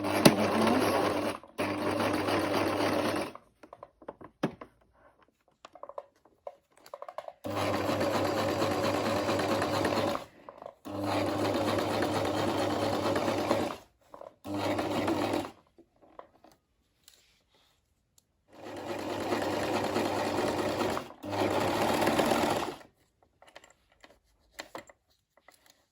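A sewing machine stitches a gathered dress skirt onto the bodice in several loud, steady runs of rapid mechanical whirring, each several seconds long and separated by quiet gaps.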